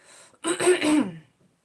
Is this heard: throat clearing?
yes